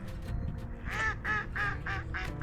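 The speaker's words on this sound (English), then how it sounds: "Is it duck mating season, friends?" Ducks quacking near a bridge in La Crosse during mating season: a series of about six nasal quacks in a steady rhythm, fairly close, over low outdoor rumble.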